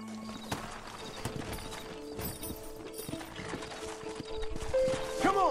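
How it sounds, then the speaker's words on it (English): Horses in the Red Dead Redemption video game clop along with steady hoofbeats amid mechanical clicks and tack rattles, ending with a short whinny-like cry near the close. "Horses are over here!"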